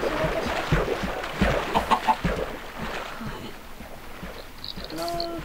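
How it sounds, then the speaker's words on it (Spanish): A chicken in Minecraft clucks in a few short, close bursts, with scattered game sounds around it and a brief chime near the end. "¿Es una gallina?"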